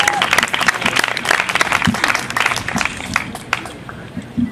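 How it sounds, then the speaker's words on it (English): Audience applause fills the room, a dense, loud wash of clapping that continues steadily throughout with some crowd noise mixed in. "So if we can give them a round of applause, please."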